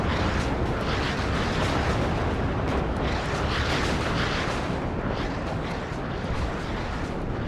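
Tank and artillery fire in the WARNO battle game, a dense, unbroken roar of rumbling blasts and explosions that stays loud and close throughout.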